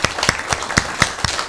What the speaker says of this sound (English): Let's give an applause for our Meghna.